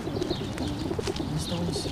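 Several pigeons coo in low, repeated murmurs close by, with small birds chirping faintly in the background outdoors.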